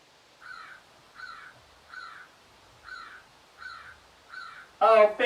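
A person imitates a crow with six evenly spaced, nasal caws, close and clear, then a loud burst of voice ends the run.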